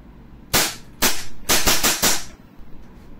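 AW Custom HX 2003 airsoft pistol firing BBs in a quick series of six sharp close cracks, two spaced shots then a faster burst of four, with brief clattering afterwards.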